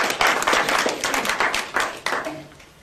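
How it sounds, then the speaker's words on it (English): Audience applause at a live mentalism and mind-reading show, a dense burst of clapping hands that rings out close and loud, then thins and fades toward the end. "Give them a round of applause to go back to the scene."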